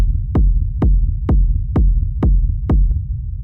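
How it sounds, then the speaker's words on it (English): A textured, intense techno kick drum hits in a steady four-on-the-floor pulse, seven deep booming thumps about half a second apart, loud and alone with a sustained low rumble between hits. "the first sound we have here is the kick, which sounds like this."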